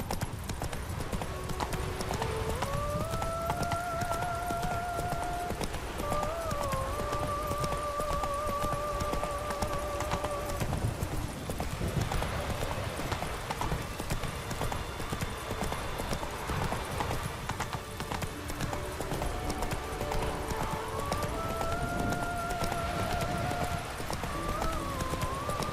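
Roach, a horse in the video game The Witcher 3, gallops in a quick, steady clip-clop of hooves, with music and a whinny over it and brief talk.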